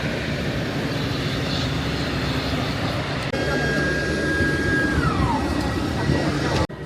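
Steady, loud engine drone and cabin roar inside an Aurigny ATR 72 turboprop airliner, continuous throughout with a brief tonal chime partway through.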